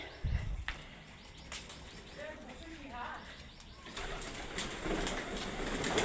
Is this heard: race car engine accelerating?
no